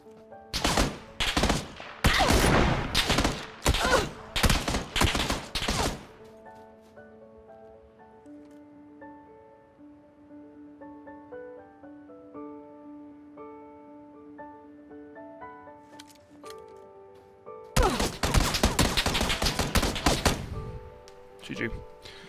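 Rapid bursts of automatic gunfire in PUBG, loud and close in dense volleys for the first few seconds, then a quiet stretch with soft ambient tones, and another heavy burst of shots near the end.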